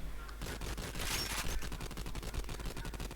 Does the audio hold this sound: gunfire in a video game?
yes